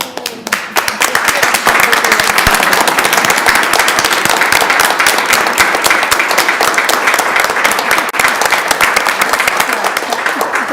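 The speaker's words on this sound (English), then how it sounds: "so that we can give you a round of applause" A room full of people at a school board of education meeting applauds new school staff, sustained loud clapping with sharp individual claps that keeps going without pause for the whole stretch.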